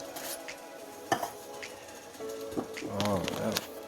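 Diced tomatoes and green chili hit hot olive oil in a pan and give off a soft crackling sizzle with some stirring scrapes. A brief clatter sounds in the middle, and the sizzle swells near the end.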